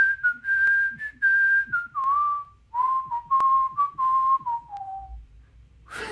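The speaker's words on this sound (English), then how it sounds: "Can you whistle one of your songs?" Someone whistles a short tune, a series of clear sustained notes stepping gradually downward, close and alone with faint background noise.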